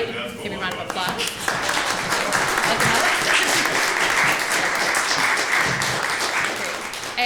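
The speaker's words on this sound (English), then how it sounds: "Give me a round of applause." An audience applauds a clinician at an opera auditioning masterclass, a dense, sustained wash of clapping that fills the room at steady loudness for several seconds, with a few voices faintly mixed in.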